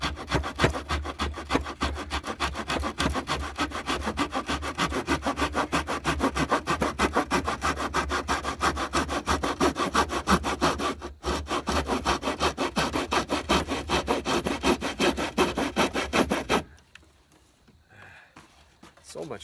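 Hand saw cutting a 2x4 wooden board outdoors at night on a Ranger flatbed, with steady rapid back-and-forth rasping strokes, close and loud, stopping near the end.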